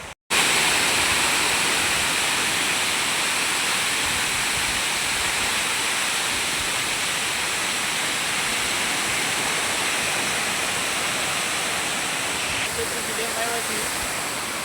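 Water pours over the Shetrunji dam after rain, a constant loud roaring rush that fills the whole stretch evenly, heard close to the spillway.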